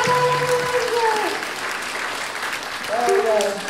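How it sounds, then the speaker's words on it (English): Audience applause at a Sunday stage performance, a steady wash of clapping with a speaker's amplified voice talking over it and some crowd noise. "we can give them a big round of applause now, both of you"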